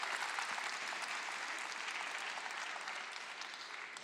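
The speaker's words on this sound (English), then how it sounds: "a wonderful applause for Avans, Femke, Maxime, and their entire team" Applause fills a hall at a robotics league championship, a broad, even wash of many hands clapping from a distance that carries on steadily and fades slightly toward the end.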